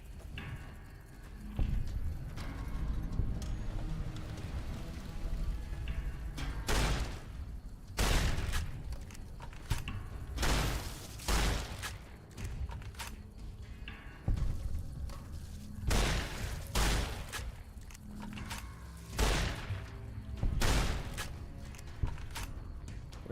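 Shotgun slug rounds fired at scorpions in Fallout: New Vegas: a long run of heavy, booming blasts spaced irregularly a second or two apart over a low rumbling bed, close and loud, with no voices.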